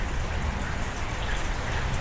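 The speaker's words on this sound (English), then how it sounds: "It's light but steady rain coming straight down." Light, steady rain coming straight down at an outdoor shooting range makes a close, even, dense patter, loud and continuous with no talk or gunfire.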